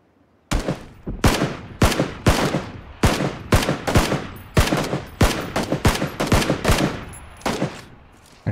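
Battle-royale gunfire in PUBG: a steady series of about fifteen sharp, loud single shots at a slightly uneven pace, each ringing out with a short echo, no talking.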